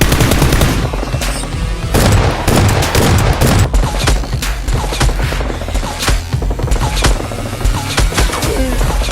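Dense, continuous rapid-fire gunfire sound effects with bursts and booms run loud throughout a Nerf gun battle between superhero-costumed players and a criminal gang of killer clowns, with no talking over it.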